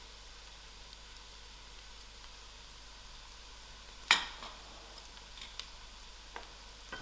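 Whole spices (jeera, dhania, saunf and a bay leaf) are stirred in a pot over quiet frying sizzle, with one distinct scrape-clink of the spoon and a few faint ticks afterward, no talk.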